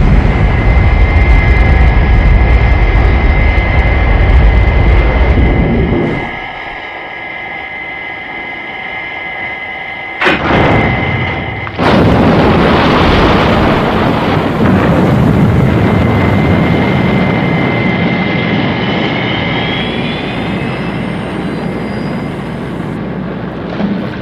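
A roaring rocket-like launch effect for Thunderbird 4 leaving Thunderbird 2 in a Thunderbirds TV episode: steady loud mechanical rumble and whine, a sudden drop, a sharp blast, then a sustained heavy roar that slowly fades.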